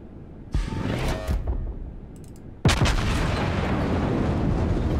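Main guns of the Tier 9 battleship Iowa firing in World of Warships: two heavy booming salvos, the second louder and followed by a long rumbling roar that fills the rest of the clip.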